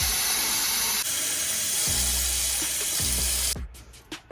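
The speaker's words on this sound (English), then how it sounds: "Put water in here." Water is poured into a cup in a steady, close stream for a few seconds, then stops, leaving a few faint drips and clinks.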